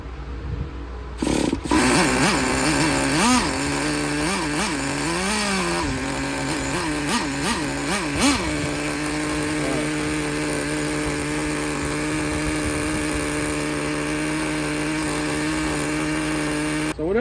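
A used nitro engine in a Traxxas T-Maxx 2.5 RC truck, running lean and hot, buzzes loudly close by, with several sharp revs early before settling into a steady high-pitched drone.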